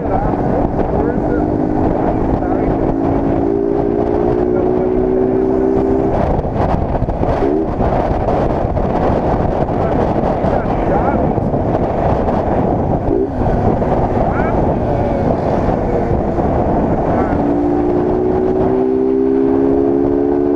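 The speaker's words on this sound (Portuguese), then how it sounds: "Então, vamos acelerar com força." A 2023 Honda Start 160 motorcycle with its air filter removed accelerates hard on a highway. The engine tone climbs under a loud, constant roar of wind rush.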